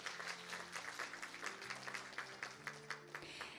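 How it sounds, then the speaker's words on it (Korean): Audience applause at the opening ceremony of an international symposium on the Hwaseong Lake wetland, quiet steady clapping from a room with a soft sustained musical tone underneath. "박수 부탁드립니다."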